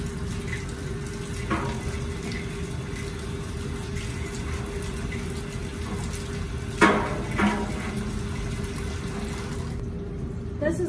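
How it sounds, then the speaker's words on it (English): Water from a vat supply line runs steadily while a scrub brush rinses an empty stationary dye vat, a constant hiss with a few louder splashy bursts midway. "Use this scrubby brush and the vat supply water to do an initial rinse down."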